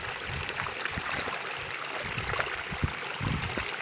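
A forest stream pours down steadily over rocks at Angong Hrông in the Vietnamese highlands, a continuous close rushing and gurgling wash with no voices.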